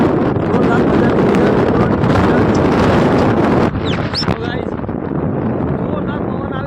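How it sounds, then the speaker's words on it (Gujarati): A strong, cool wind buffets a microphone on a hill outing near Ambaji, a loud roaring rumble that eases after a few seconds into gentler gusts with brief whistling tones. "જોરદાર પવન આવી રહ્યો છે, મસ્ત મસ્ત ઠંડો ઠંડો"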